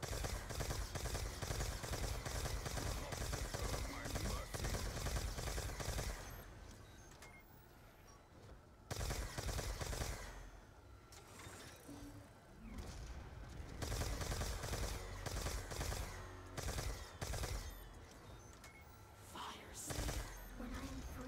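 Dense, sustained gunfire barrage from a giant robot in the Call of Duty zombies map Origins, a loud continuous roar of shots and rumbling explosions that briefly thins out before surging again, with voices mixed in.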